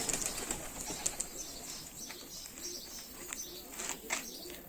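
Turkish tumbler and roller pigeons coo softly amid a busy outdoor bird chorus, with occasional bursts of wing flapping, steady and moderately near.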